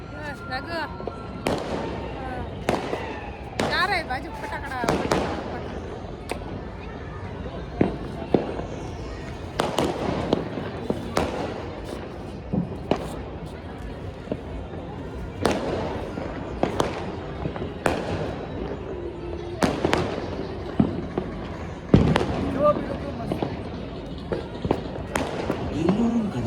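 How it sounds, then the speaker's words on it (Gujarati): Firecrackers and fireworks burst all around on an Uttarayan evening, sharp irregular bangs and crackles at varying distances, some close and loud, with occasional talk in between. "બસ લાગો ચારે બાજુ ફટાકડા"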